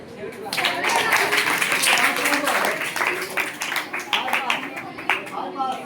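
An audience at a quiz contest breaks into steady applause, dense clapping that holds loud for several seconds, then thins into scattered claps as it fades.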